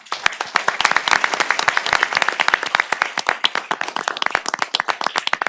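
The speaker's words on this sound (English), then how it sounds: "Let's give them all a round of applause." Scattered applause at a city council meeting honouring Distinguished Citizen recipients, with distinct individual claps from a modest room of people, close and crisp, tapering near the end.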